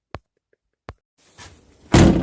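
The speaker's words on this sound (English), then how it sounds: "Finally got that door open, by the way." A long-frozen door on a Citroën DS being forced open: two sharp, isolated knocks, then a rising scrape of metal and a final loud, noisy burst as the door gives way, close by with no talk.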